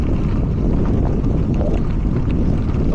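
Steady, loud wind buffeting the microphone while riding into a headwind on a bikepacking return trip, a continuous low roar filling the whole stretch with no talk.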